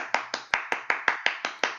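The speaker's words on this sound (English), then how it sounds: "Applause for the hosts, Andy and Josh" Applause for the hosts at an open stage event comes as a steady run of about ten crisp, evenly spaced hand claps, fairly close and quick, with no talking.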